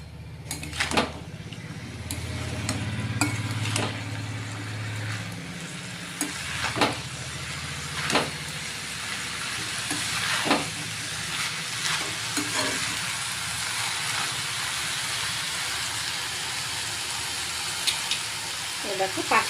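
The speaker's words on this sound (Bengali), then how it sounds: "এটা ভালো করে একটুখানি মটরের সাথে কষিয়ে নিই" Green peas cooked with spices for ghugni are stirred and fried in a pan, giving a steady sizzle broken by repeated scraping knocks of the spoon against the pan, close and continuous for the whole stretch.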